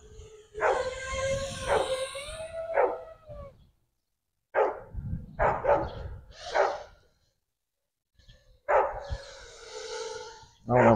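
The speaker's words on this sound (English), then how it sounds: "Oh, there's some damn dog barking." A dog barks in repeated bursts of several loud yips and howl-like barks across the span, close and prominent, with brief silent gaps between volleys.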